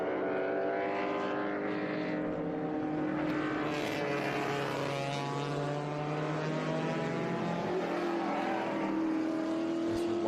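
A field of race cars, including vintage machines such as a 1970 Chevrolet Camaro Z28, drones around turn 1 at VIR, overlapping engine notes rising and falling at a distance in a continuous layered roar.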